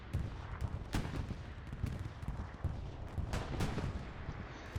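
Repeated explosions from a bombing run in the Hell Let Loose video game on Utah Beach, a dense series of sharp booms and rumbling blasts over continuous low battlefield noise.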